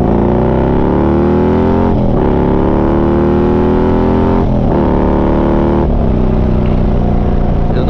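A stage 4 Harley-Davidson FLHX motorcycle accelerates hard and loud up close, its engine note climbing in pitch through three gear changes, each marked by a brief dip before the rise resumes.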